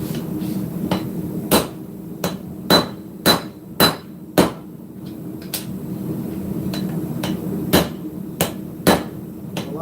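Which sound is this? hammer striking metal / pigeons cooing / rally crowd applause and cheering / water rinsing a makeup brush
hammer striking metal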